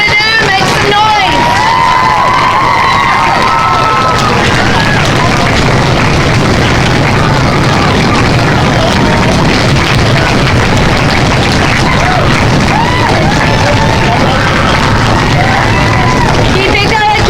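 At a high school Locks of Love event, a large crowd keeps up a sustained, loud din of cheering, yelling and thumping, with stomping and table-banging adding low booms beneath the shouts.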